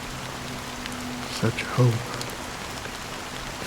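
Soft, steady rainfall in the video game Honkai: Star Rail, a faint even hiss running through the whole stretch while a voice speaks briefly partway through.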